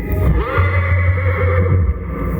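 Horses neigh before a knights' joust, one long loud whinny ringing out clearly over a constant rumbling, echoing background.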